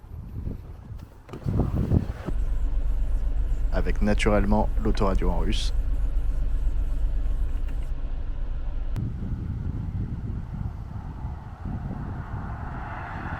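A car used for a road trip through Moldova, with its engine and road noise droning steadily inside the cabin while someone talks over it, then a brief burst of Russian-language car radio before the hum continues.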